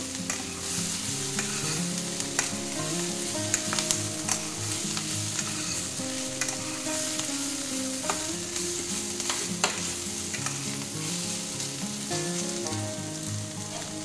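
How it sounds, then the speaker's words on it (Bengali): Snake gourd cooked with poppy seeds and onion sizzles steadily in a pan, with frequent scraping and clattering from stirring throughout and no talk. "এটা হয়ে গেছে ভাজা, খুব সুন্দর নরম করে ভেজে নিয়েছি"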